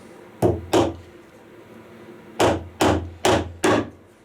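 Nails are hammered into wood while fitting feet onto a piece in a home workshop: two sharp knocks, a pause, then four more evenly spaced blows, close and loud with no talking.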